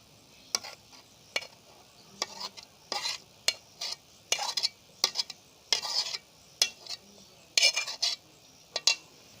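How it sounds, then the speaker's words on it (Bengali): Homemade neem soap mixture being scooped and poured into bowls, heard as a quick series of close scraping and clinking bursts from a spoon against the containers, with short pauses between them. "আমি এবার মিক্সারটা বাটির মধ্যে ঢেলে নেব।"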